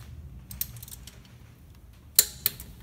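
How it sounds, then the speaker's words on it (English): Metal clicks and ratcheting taps as an EGR cooler mounting bolt is worked loose on a Toyota 1KD-FTV diesel engine, mostly faint and scattered, with two sharper clinks near the end. "We're going to carefully remove the mounting bolt for the EGR cooler"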